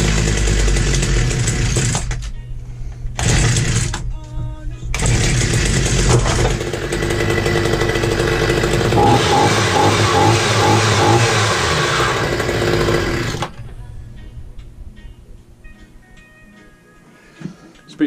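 Stihl HS 74 petrol hedge trimmer engine running loud and close with a raspy two-stroke buzz, dipping briefly twice, then revving steadily before cutting out and leaving a quiet tail.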